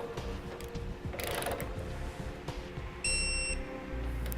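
A 3/4 inch socket and wrench tighten the bolts on a Roadmaster EZ base plate fitted to a 2012 GMC Terrain, making faint metallic clicks and ratcheting against a low mechanical hum, with a short high tonal beep partway through.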